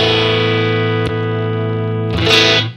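An electric guitar played through a Warm Audio Warm Drive overdrive pedal holds a thick, distorted chord that sustains loudly, with a brief pick click midway and a scratchy strum near the end.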